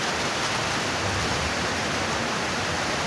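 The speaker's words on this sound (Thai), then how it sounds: "เสียงฝนก็จะเนาะ" Dense, continuous rain hiss, loud and even throughout, with no voices or breaks.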